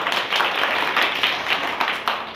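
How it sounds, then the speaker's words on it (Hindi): A group of children and adults clapping for a young boy who answered a school general-knowledge quiz question, a brief burst of loud, dense applause with uneven swells. "चलो जोरदार ताली छोटू के लिए।"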